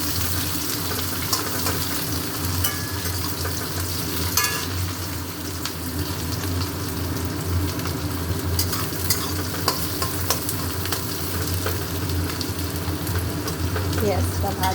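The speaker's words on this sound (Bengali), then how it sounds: "এবারে দিচ্ছি পেঁয়াজ, পেঁয়াজটা ভালো করে ভেজে নেব" Onions fry with a dense, steady sizzle in a pan after whole spices go in, with frequent stirring scrapes and clatter over a continuous hiss, plus some running-water noise nearby.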